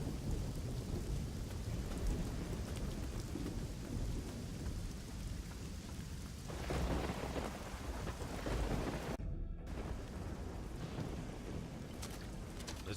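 Thunderstorm with heavy rain in the video game Risen 2, a steady wash of pouring rain with low rumbling thunder swelling midway, a brief gap, then more rain and rolling thunder, no voices.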